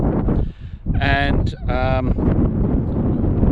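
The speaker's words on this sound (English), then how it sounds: "It's too windy." Strong outdoor wind buffets the microphone in a loud, continuous low rumble, with a short spoken word and a couple of bleating or animal-like calls briefly rising above the roar.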